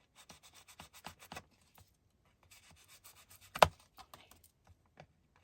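Ink being rubbed onto the edges of paper cards for artist trading card embellishments: a quick run of soft, dry rubbing strokes, a pause, then more scattered strokes and one sharper scuff, close and quiet with no talking.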